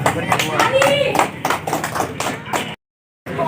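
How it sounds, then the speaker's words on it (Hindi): Audience clapping as a guest is called to the stage at a village Republic Day gathering: scattered, uneven claps with talk and background voices mixed in, then a sudden brief dropout. "कृपया उनके लिए जोरदार तालियां हो जाए"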